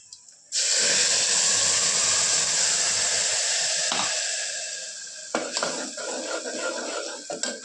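Ground onion, coriander and green chilli paste hits hot oil with bloomed cumin seeds: a sudden loud hiss bursts up and slowly fades, followed by scattered clatters of a pot and utensil.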